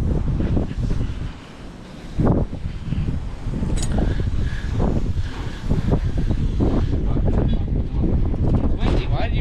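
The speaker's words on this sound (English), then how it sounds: "It's windy." Strong wind gusts buffet the microphone in an open farm yard during grain cleaning, a steady broadband roar rising and falling throughout, with people talking over it.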